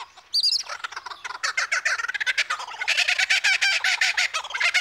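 A male superb lyrebird in the Australian wild runs through its repertoire of mimicked calls, a loud, nearly continuous stream of rapid, varied whistles, trills and chirps with no voices present.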